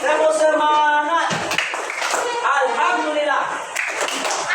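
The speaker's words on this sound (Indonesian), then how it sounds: "Sekarang kita bilang tepuk semangat." Group performing a rhythmic spirit clap, sharp hand claps punctuating loud chanting voices, close and lively.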